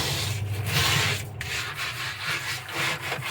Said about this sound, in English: I'm going to just spread it around, mix it up real good with the scrubber